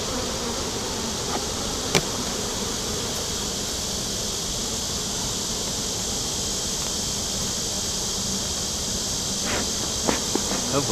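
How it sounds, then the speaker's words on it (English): Honeybees swarm out of an opened, busy hive box, their buzzing a dense, steady hum that fills the whole stretch close to the listener, with a few brief knocks and clicks of handling. "we got a decent amount of bees in here."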